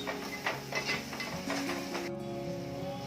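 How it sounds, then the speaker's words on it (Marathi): Turmeric and coriander-cumin powder being stirred in a pan for a spiced sev curry, with soft scraping strokes and a light sizzle in a quiet kitchen. "हळद आणि धना जिरा पावडर, त्याला पण परतवून घ्यायचंय।"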